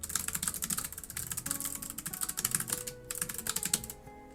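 Rapid typing on a computer keyboard, a dense stream of crisp clicking keystrokes at close range, steady with brief pauses, no voices.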